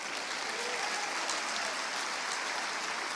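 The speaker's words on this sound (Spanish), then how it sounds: "Aleluya, un aplauso a Cristo." Congregation in a church claps for Christ, an even wash of loud applause filling the whole stretch with no break.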